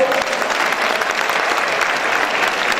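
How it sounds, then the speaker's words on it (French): Steady applause from an audience at a gathering of African communities in Rabat, dense and continuous clapping throughout with no pauses, loud and close. "Applaudissements pour la Guinée-Bissau."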